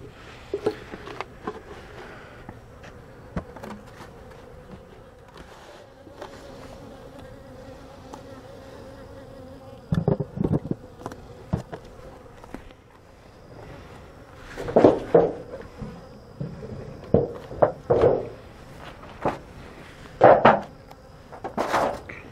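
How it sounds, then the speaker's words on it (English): Robber bees from other hives buzz around a small beehive, a constant soft drone with several louder passes as individual bees zip close to the microphone, plus occasional knocks and clatter. "See all these bees flying around here? They don't belong here. They're from other hives."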